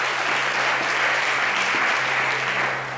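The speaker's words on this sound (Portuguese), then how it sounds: "aplauda o Senhor, meu irmão" Steady applause from a church congregation during a Portuguese-language sermon, a dense, continuous wash of clapping filling all three seconds without speech, easing slightly at the very end.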